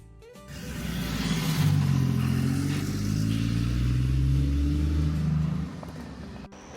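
An airport bus rolls toward Fuyuan city centre in China's far east, its engine droning steadily up close with low rumble and mild rev changes, no voices over it.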